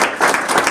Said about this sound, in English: Nice round of applause for her.